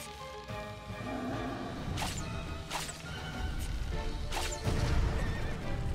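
A horse in the video game Shadow of the Colossus neighs and whinnies several times over hoofbeats and a steady rumbling game backdrop, moderately loud.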